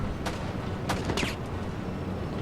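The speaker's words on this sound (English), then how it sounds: "there's a guy shooting at me" Gunfire in the Enter the Matrix game: a few sharp separate shots crack out over a low steady rumble of ambience, fairly loud and close, with no talking.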